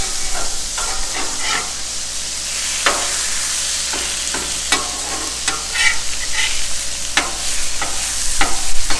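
Mushrooms sizzle steadily on a hot Blackstone flat-top griddle, a continuous bright frying hiss broken by sharp spatula scrapes and taps against the steel, close and fairly loud with no talking.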